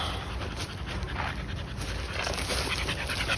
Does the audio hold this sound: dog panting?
yes